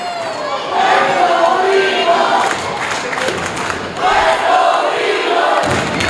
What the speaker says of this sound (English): Weyburn's crowd is hyping up the team